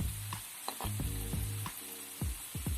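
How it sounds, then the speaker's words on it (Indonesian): Potato pieces frying in a pan of hot oil, with a steady sizzle and repeated stirring and scraping clatters. The sound is close and fairly quiet, and nobody speaks. "kita perlu menggoreng kentang ini kurang lebih 5 menit agar semuanya matang merata"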